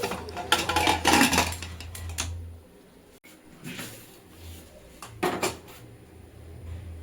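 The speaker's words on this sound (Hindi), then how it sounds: "नमक और हल्दी हम इसमें डाल के कुकर का लगा देंगे ढक्कन" A pressure cooker lid going onto the pot in a home kitchen, a run of metallic clanks and scrapes at first, then quieter pauses broken by a couple of further knocks.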